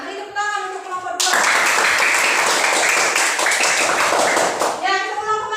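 Classroom applause for a student group during a fifth-grade science lesson, a dense burst of clapping from many children lasting several seconds, with the teacher's voice before and after.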